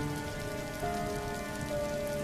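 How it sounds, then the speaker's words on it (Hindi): Heavy rain falls steadily on a surface on a dark night in a cartoon story, an even, dense patter at a constant level with no voices. "अन्नपूर्णा रोती हुई बेटियों को लेकर तेज बारिश और अंधेरी रात में निकल पड़ती है।"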